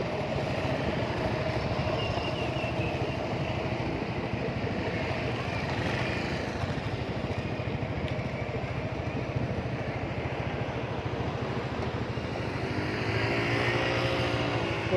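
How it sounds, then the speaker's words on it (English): A Massey Ferguson tractor engine drones steadily near a beach, a rough continuous motor hum that swells slightly toward the end, with faint background noise around it. "Oh, I've not seen a Massey Ferguson tractor for years."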